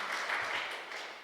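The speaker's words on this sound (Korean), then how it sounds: "우리 박수로 환영하겠습니다" Brief applause from a church congregation welcoming a visiting guest during a Sunday service, a short steady patter of clapping heard alone.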